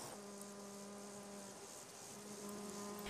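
A wasp buzzes near its nest, a faint steady humming drone that carries on unbroken.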